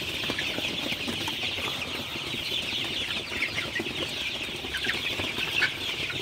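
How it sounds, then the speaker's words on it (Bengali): A flock of Sonali super hybrid chickens on a poultry farm clucks and chatters without pause, many overlapping calls forming a dense, steady wash of bird noise with no talking. "আপনারা দেখতে পাচ্ছেন আমার সোনালি সুপার হাইব্রিড মুরগিগুলো মাশাআল্লাহ কিন্তু খুবই ভালো আছে, সুস্থ আছে"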